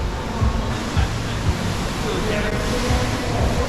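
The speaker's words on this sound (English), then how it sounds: "coming to that big water effect now" Large water feature inside the ICONSIAM shopping mall in Bangkok, a steady rushing splash of falling water heard nearby, with crowd chatter and footsteps in the busy indoor space.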